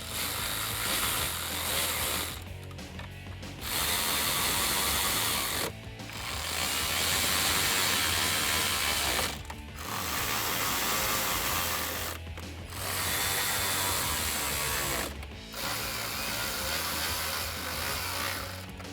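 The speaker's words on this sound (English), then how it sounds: "7mm socket to tighten that down" A socket wrench with a 7mm socket ratcheting to tighten bolts on the original hardware while installing a navigation unit in a 2015-2020 Ford F150, in long continuous bursts separated by short pauses.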